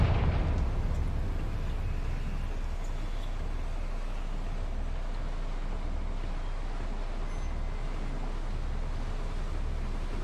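Confringo fire spell blasts in Hogwarts Legacy, a loud boom at the start that rolls into a steady, heavy rumble lasting throughout, with no talking.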